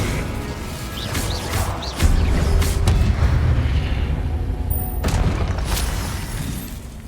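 Incendio fire spell in Hogwarts Legacy, a sudden loud whooshing burst that roars on as a sustained, crackling rush with a few sharp impacts and a second flare partway through.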